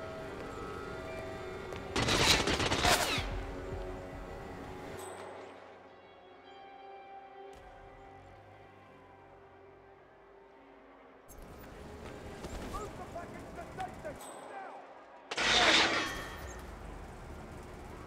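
Gunfire in the video game Hitman 2, heard as two loud, dense bursts of shots separated by quieter stretches of ambient game noise and rumble.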